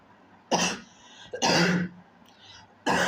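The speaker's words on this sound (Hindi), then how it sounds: "सॉरी भाई खांसी आ रही।" Three harsh, separate coughs burst out close by at uneven intervals, with quiet breathing between them.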